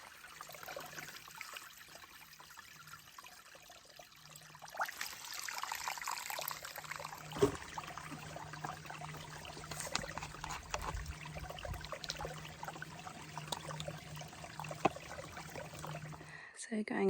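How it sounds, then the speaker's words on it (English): Water trickling from a pipe spring into a creek along the Appalachian Trail, a faint continuous dribble and splash, quiet and close, with a voice talking over it. "I love it when someone's gone to the effort of putting a pipe into the creek."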